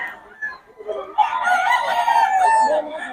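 A Boston Roundhead rooster crows once, loud and close, in a drawn-out call lasting about two seconds after a few softer sounds.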